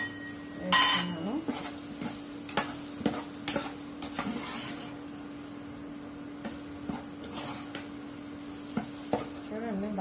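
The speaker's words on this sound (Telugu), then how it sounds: "ఇప్పుడు మనం ఇది తెల్లగడ్డపాయలు కొద్దిగా దంచాను వేస్తున్నాను" Crushed garlic hits frying bitter gourd in a pan, giving a steady soft sizzle under sharp clinks and scrapes of a spatula stirring against the pan, with scattered bursts throughout.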